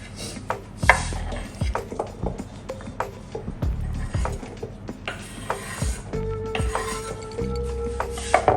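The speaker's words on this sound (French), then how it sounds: "Les cornichons, je les coupe en petites rondelles." Knife slicing pickles into small rounds on a cutting board, a run of quick, close, sharp chopping taps with clinks of utensils, steady and without talk.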